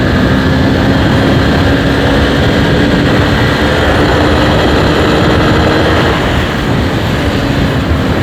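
A TVS Apache motorcycle engine runs steadily at normal speed after a gear change, a loud, continuous close-up drone with a constant hum and rushing wind-like noise throughout.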